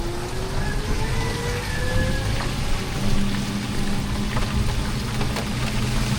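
Steady rain falls outdoors at a bahay kubo, a dense continuous patter on surfaces with a faint low engine-like hum running underneath throughout.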